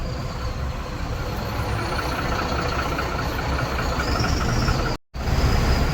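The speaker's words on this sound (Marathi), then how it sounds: "आता रिवर्स घेतो गाडी" A heavy vehicle's engine rumbles steadily while reversing at a toll plaza, broken by one brief cut near the end.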